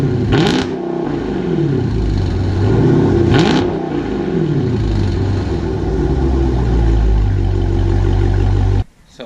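A Dodge Scat Pack's engine runs after a resonator install, revving up twice with a loud rising roar and dropping back to a steady, throaty idle. It sounds close and carries on alone until a sudden cutoff at the end.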